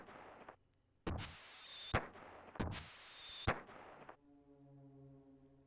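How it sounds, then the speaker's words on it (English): Thunderous fireworks booms in the video game Radical Dreamers: four heavy, echoing blasts in two pairs sound from a distance, followed by soft tonal music. "suddenly, thunderous booms start to echo out from far behind us."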